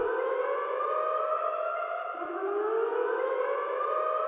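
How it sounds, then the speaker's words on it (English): A homemade synth alarm effect, a dense, buzzy siren-like chord held steadily for about four seconds with one brief dip partway through, loud and continuous, with no voices. "And we have this alarm sound that I made"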